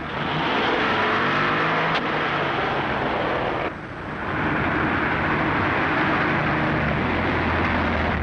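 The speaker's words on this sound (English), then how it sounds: "Start the car." A car engine roars steadily during a chase in an old film serial, a loud continuous motor drone with a brief dip before surging again, nearly free of talk.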